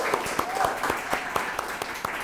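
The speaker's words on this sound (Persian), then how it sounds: "تیم جوانان کشورمون هم به جام جهانی راه پیدا کرده، دمشون گرم، تشویقشون کنیم" A studio audience on a television talk show applauds faintly, with a few separate, distinct claps standing out in an uneven rhythm over a quiet background.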